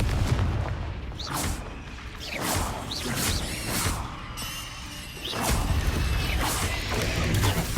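Blasting spell explosions in the Hogwarts Legacy video game: repeated whooshing casts followed by booming, crashing impacts, spaced a second or two apart over busy combat ambience.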